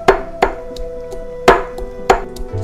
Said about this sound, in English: I'm gonna start grinding.